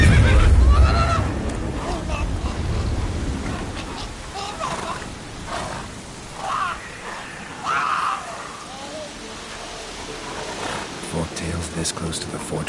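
Roach, the horse in The Witcher 3, neighs and whinnies amid game ambience and a voice, with the loudest snorting burst near the start and softer calls later.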